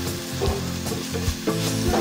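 Semolina stirred and cooking in a pan for fritters, a steady sizzle with scraping stirring strokes recurring every half second or so, close and continuous.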